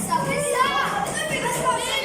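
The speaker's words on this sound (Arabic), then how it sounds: "بيبي طفل." A baby's voice plays as a sound-guessing game clue, a steady babbling and cooing that stays fairly loud and close for its whole length with no other talk.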